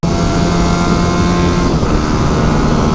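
A loud, steady engine drone runs throughout, like a supermoto motorcycle cruising at constant speed close to the listener.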